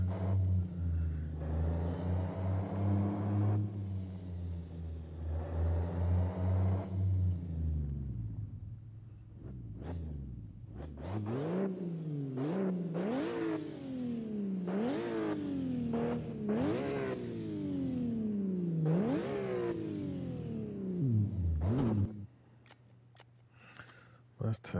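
Game car engine in CarX Drift revving on a track: a steady low drone, then rapid repeated rises and drops in pitch as the throttle is worked through drifts, loud and continuous, with the engine settling to a lower idle near the end.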